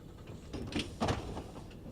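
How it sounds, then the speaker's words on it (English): Train doors sliding shut on a passenger train in the Train Sim World 3 game on the Brighton Main Line, heard as a close mechanical slide and thud with a second clunk about a quarter-second later, over a steady cab hum. "Door shut and let's go."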